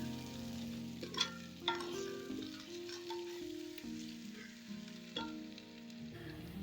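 Biryani masala with chili powder sautéing over a medium flame for chicken dum biryani, a steady soft sizzle with a few sharp stirring clicks, running under background music.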